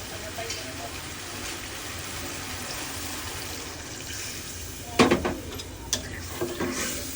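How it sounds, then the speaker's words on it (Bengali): Water being added to a sizzling pan of cauliflower, a steady frying hiss that erupts into a louder burst of crackling spatter, followed by a few clattering stirs. "এখন পানি দিয়ে দেবো"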